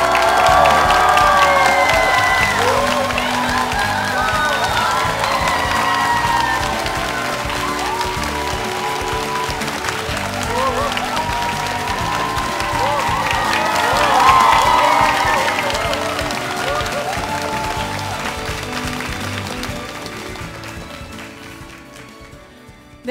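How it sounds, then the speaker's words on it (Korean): Loud, sustained applause and cheering from a live audience at an MBC radio talk concert fill the hall as the host is welcomed, swelling again midway before tapering off at the end. "큰 박수로 맞아주십시오."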